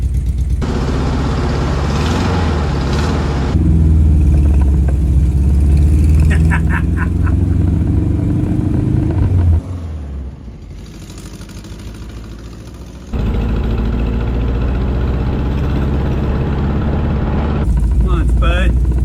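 A 1968 bus engine idles and revs loudly up close, its rough low rumble surging and dropping, with a brief quieter gap partway through and a voice talking over it.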